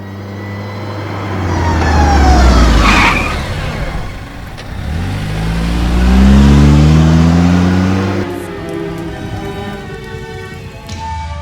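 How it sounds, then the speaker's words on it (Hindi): Car driving along a road at night in a Hindi horror film, its engine swelling loudly twice as it surges past with rising and falling pitch, then settling into a softer, steady hum. "गाड़ी चलती जा रही है"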